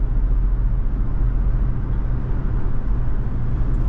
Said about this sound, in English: we are getting a little wind noise, a little noise from outside the vehicle